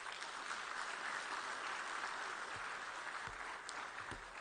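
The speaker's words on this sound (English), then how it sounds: "kindly give him a warm round of applause" Sustained, even applause from a large audience at the closing ceremony of a food sovereignty summit in Dakar, heard as a steady wash of clapping at moderate distance.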